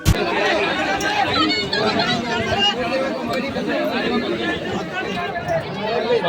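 Dense crowd chatter fills a busy Mumbai train, a steady babble of many overlapping voices close around with rustling movement and no single voice standing out.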